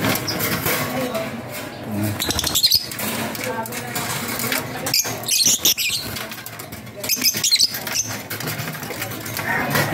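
An African lovebird flaps its wings in sharp, irregular fluttering bursts while being caught by hand, close up, with rustling and handling noises between the flurries.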